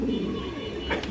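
Big-headed pigeons on a fancier's loft farm coo in low, soft throaty calls, close by and steady, with faint background murmur.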